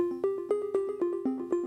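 A plucky synth voice from track 6 of an Elektron Digitone plays a techno melody as short, bright, evenly spaced notes that decay quickly, with no other sounds alongside it.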